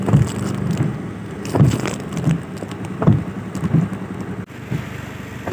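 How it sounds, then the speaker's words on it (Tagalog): Rain patters steadily over a dull background rumble, with irregular louder thumps and splashes scattered through the downpour. "Ang lakas pa rin ng ulan"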